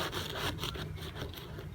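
A plastic spatula scrapes grime off the hull of a dirty inflatable boat, making a soft, steady rasping rub with repeated short strokes, fairly quiet and close.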